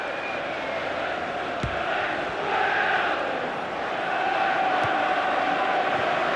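A stadium crowd in the FIFA 15 football game, during a Premier League match between West Ham and Everton, keeps up a steady, far-off roar with swelling jeers and a few brief sharp accents.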